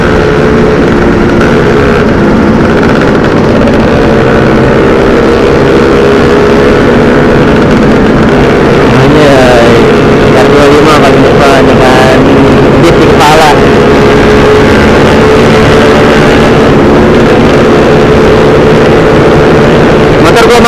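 Kawasaki Ninja RR two-stroke motorcycle engine running on a morning group ride, loud and continuous with wind and road noise, a rider talking over it throughout.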